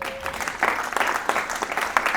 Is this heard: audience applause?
yes